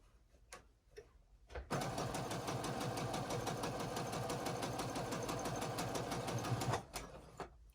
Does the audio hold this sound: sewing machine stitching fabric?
yes